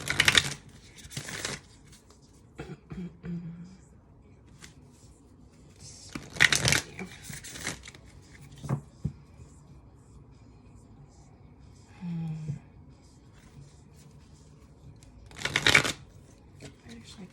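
A deck of Moonology oracle cards being shuffled close by in several separate bursts of riffling and scraping, with quiet gaps between them and a little faint talk.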